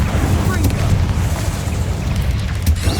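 An Incendio fire spell is cast in Hogwarts Legacy, a loud rumbling whoosh of flame with deep booming low end that fills the whole moment alongside other game effects.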